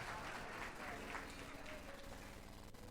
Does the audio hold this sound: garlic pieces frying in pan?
no